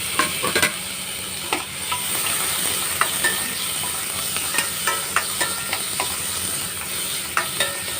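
Tomato, tamarind and garlic sauté in a pan for chutney, with a steady soft sizzle under repeated sharp clicks and scrapes of a spoon stirring against the metal, close and alone.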